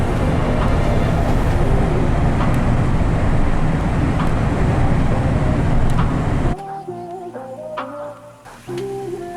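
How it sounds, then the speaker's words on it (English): A 2012–2018 Jeep Wrangler cruises at 70 mph on the freeway, giving a loud, steady cabin roar of road and engine noise that drops to a quieter drone with tonal whine near the end. "We got the Jeep cruising at 70 miles an hour down the freeway."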